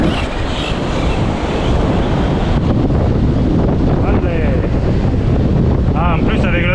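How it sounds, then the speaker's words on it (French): Heavy wind buffets an outdoor microphone in a steady, loud rumble, with a faint high whine from a remote-control car near the end. "Ah, en plus avec le vent."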